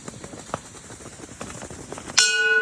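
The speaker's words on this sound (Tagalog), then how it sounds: "Hit the bell." A bell struck once rings out bright and clear, its metallic tone lingering after light footsteps and small thumps.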